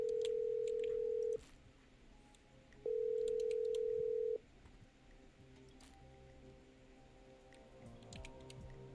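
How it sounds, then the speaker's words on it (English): Telephone line tones in the video game Killer Frequency: two steady electronic tones, each about a second and a half long, separated by a short pause, then a quiet background hum. "Okay, I'm dialing."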